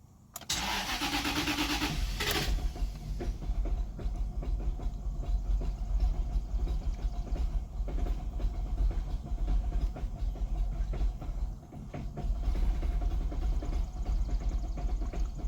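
A Jaguar engine with a likely dry fuel system cranks and sputters, a loud, steady churning that runs nearly unbroken for about fifteen seconds, with one brief dip in the middle.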